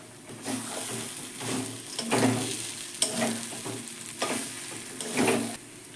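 Paneer and fried spices sizzle in a hot frying pan with a close, crackling hiss. Stirring strokes make the sizzle swell in short, rhythmic bursts.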